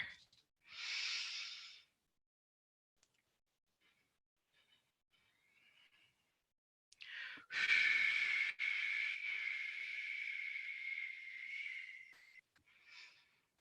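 Whooshing breaths during a breathing exercise: one short, forceful exhale, a quiet pause, then a long, sustained whoosh of breath, all close and alone with no talking.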